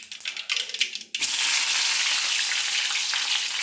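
Mustard seeds and onions dropped into hot oil, a few crackles and clinks, then a loud, sudden, sustained sizzle that stays bright and steady.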